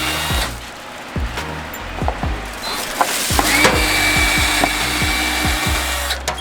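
Power drill working on fridge door hinges at home, a series of sharp, repeated ratcheting bursts and clunks close by, with household noise around them.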